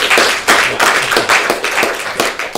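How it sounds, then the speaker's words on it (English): An audience at an engineering education conversation event gives a loud, sustained round of hand clapping, dense and continuous with slight surges, no voices over it. "Big hand of applause."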